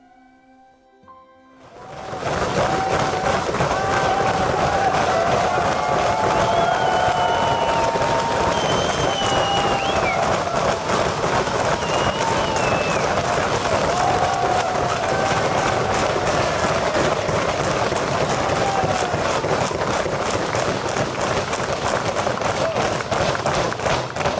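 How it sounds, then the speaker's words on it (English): A large crowd lining the finish line of the Bridgestone World Solar Challenge solar car race in Victoria Square bursts into sustained applause and cheering, loud and continuous after a quiet start, with voices mixed in. "large crowds lined the finish line and cheered us on"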